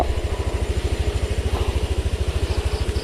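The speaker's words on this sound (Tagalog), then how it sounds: "Painitin muna natin yung motor." A motorcycle idles while warming up, its engine producing a steady, rapid low thumping pulse with mechanical clatter. The machine is loud and close, and the rhythm stays even throughout with no revving.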